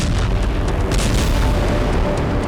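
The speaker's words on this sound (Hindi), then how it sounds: "यूक्रेनी सेना रूसी धरती पर नॉन-स्टॉप विस्फोट कर रही है।" Heavy, continuous rumbling blasts and booming explosions in war footage from Russian soil, loud and dense with repeated sharp bursts layered over a deep roar, no voices heard.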